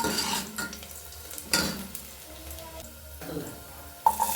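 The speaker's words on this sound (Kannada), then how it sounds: "ಇವಾಗ ಉಳ್ಳಾಗಡ್ಡಿ ಚೆನ್ನಾಗಿ ಫ್ರೈ ಆಗ್ತಾ ಇದೆ ನೋಡಿ." Onions frying in a pan, a close crackling sizzle broken by several scraping stirs of a utensil against the pan and a light clink near the end.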